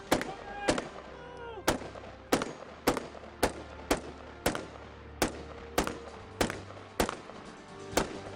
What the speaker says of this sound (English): Get on that gun, Neil!